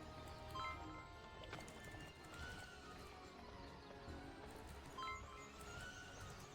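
Horse from the video game Barbie Horse Adventures: Riding Camp, with steady clip-clopping hooves and a couple of bright whinnies over a busy game soundtrack, with no talking.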